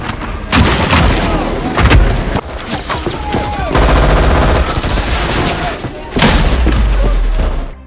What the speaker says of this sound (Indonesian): pasukan CIA menyerangnya lebih dulu dengan senjata mereka